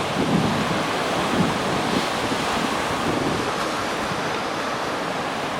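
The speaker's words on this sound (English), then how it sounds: "we headed down to the beach today" Mediterranean surf washes onto a Tel Aviv beach in a continuous roar, heavily buffeted by wind on the microphone.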